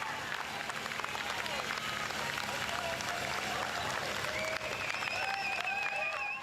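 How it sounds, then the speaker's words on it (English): Roadside spectators at a 10k road race keep up dense, continuous applause and cheering for passing runners, mixed with whistles and shouts that carry over the crowd noise throughout. "Listen to the crowds cheering them on."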